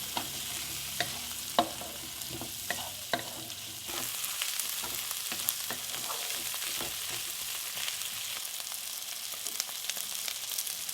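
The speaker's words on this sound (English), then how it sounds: "Stir fry them on a medium flame for a minute." Onions, split green chilies and turmeric stir-fry in a pan over a medium flame. A steady sizzle sits under sharp, intermittent knocks and scrapes of a spatula. Midway the hiss grows louder and denser. No one speaks.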